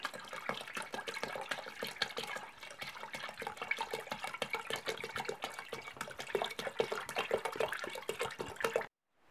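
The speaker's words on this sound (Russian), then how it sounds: "Я добавляю еще воды." Water poured into a container holding pork knuckle marinating in beer, a continuous close splashing and gurgling stream that runs steadily for several seconds and then stops abruptly.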